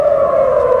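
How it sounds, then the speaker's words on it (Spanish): An air raid siren wails in Tel Aviv, Israel, holding a loud, steady, unbroken tone throughout the brief moment with nothing else heard. "Las sirenas que han sonado en Tel Aviv, en la capital del país"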